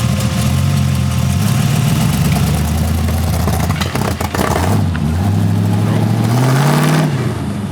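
A 1940 Ford with a stumbling engine runs in first gear, a loud low rumble with a faint whine, pitch dipping and rising as it revs, with people talking over it.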